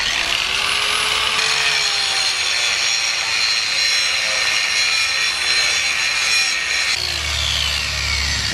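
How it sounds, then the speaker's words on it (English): A power tool grinds steadily against a metal brake caliper on a Lexus LS400, a loud, continuous shaving whine lasting throughout with a brief change in pitch partway. "All we really have to do is shave down this part of the caliper"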